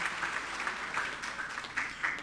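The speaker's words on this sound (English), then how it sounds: "he deserves a clap for that" An audience at a Commonwealth Hansard editors' conference applauds a speaker, a moderately distant, fairly soft spread of clapping that swells and dips unevenly over a couple of seconds.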